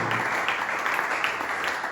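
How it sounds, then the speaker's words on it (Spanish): A church congregation applauds for the Lord, a soft, even wash of clapping at moderate distance with no clear gaps. "Dale un fuerte aplauso al Señor en esta tarde"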